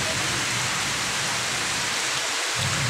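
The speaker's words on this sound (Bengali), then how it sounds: "বৃষ্টি শুরু হয়ে গেল" Heavy rain pouring steadily on a village after intense heat, a dense, loud, unbroken hiss of falling water with no voices.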